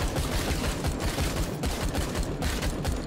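Sustained automatic assault rifle fire against destructible walls in a video game, a dense, continuous rattle of rapid shots at steady loudness lasting the whole stretch, with no talk.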